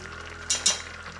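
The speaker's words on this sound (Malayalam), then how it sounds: "അപ്പം ഇത് കുറച്ച് നേരം ഇളക്കി കൊടുത്ത് ഇങ്ങനെ തിളച്ച് വരുന്ന സമയത്ത്" A spoon stirs jaggery and broken rice payasam, nurukkari pradhaman made with cow's milk, in a pan. Two quick scraping strokes rise over a quiet simmering background.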